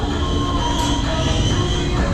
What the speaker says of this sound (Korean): 아렉산드리아 이렇게 트램도 다닙니다